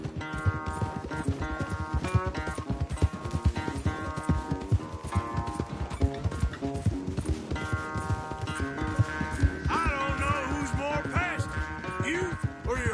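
Horses gallop in a race in Red Dead Redemption 2, a steady rapid clip-clop of hooves running throughout over game music, loud and continuous.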